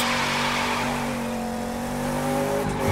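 A tuned Mustang in The Crew 2 racing game holds a loud, sustained engine drone while drifting in second gear, with a steady tire hiss throughout and a slight rise at the end.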